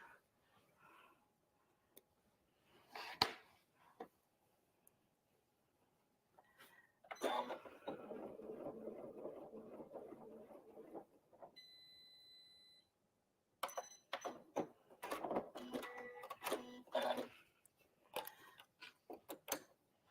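A sewing machine stitches a Christmas tree garland and pulls up the bobbin thread, with short bursts of rapid mechanical clatter separated by pauses, fairly close and moderately loud, with a few faint beeps partway through.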